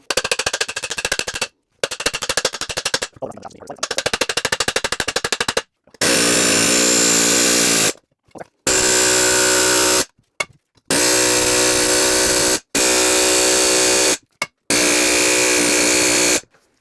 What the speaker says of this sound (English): got the bigger air hammer out